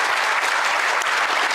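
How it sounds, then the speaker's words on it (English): Audience at the World Toilet Summit 2025 giving a steady, full round of applause, heard throughout as a dense wash of clapping from a large crowd. "Let's have a round of applause for his welcome."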